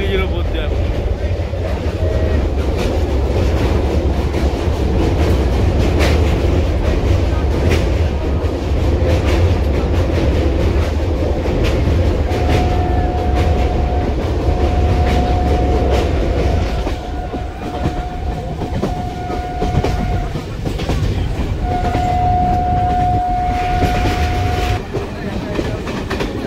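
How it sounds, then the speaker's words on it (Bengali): Local train crossing the Hooghly bridge over the Ganga: a loud, continuous rumble of wheels and carriages with clickety-clack, and a sustained high whistle or squeal in the second half. "এখন আমাদের ট্রেন ঢুকলো কিন্তু হুগলি ঘাট, দেখো হুগলি ঘাটে চলে আসলো ট্রেন।"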